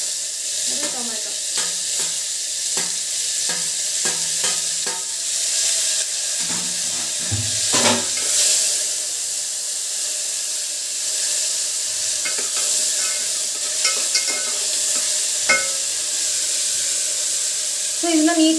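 Fried onion and tomato stirred in a pan, a continuous loud sizzle with repeated scraping strokes of a spoon at an irregular rhythm, and a voice speaking now and then.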